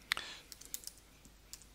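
Faint, close computer keyboard typing and clicks come as a few sharp taps, then scattered lighter keystrokes, while a sheet in a Google spreadsheet is renamed.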